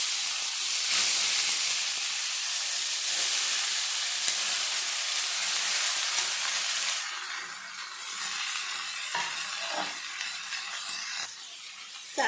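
Diced ash gourd sizzles hard in hot oil tempered with five-spice and dried chilli, a loud steady frying hiss that softens slightly partway through, with a few stirring scrapes near the end and no talk.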